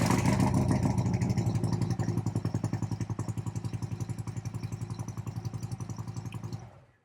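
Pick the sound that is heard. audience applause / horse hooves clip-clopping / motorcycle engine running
motorcycle engine running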